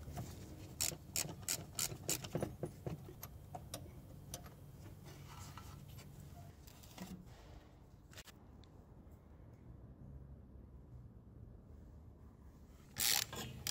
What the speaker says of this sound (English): Using an 11mm socket and a wrench, I remove the bolt.